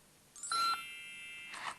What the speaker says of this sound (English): I can hear the magic fairy phone, Harmony.